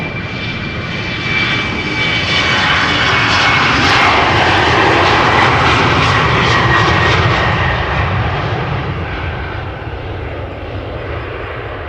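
Airliners roar along a runway at Amsterdam Schiphol Airport during the morning rush, a loud, sustained jet engine rumble that swells in the middle and fades slowly over twelve seconds, heard alone without talk.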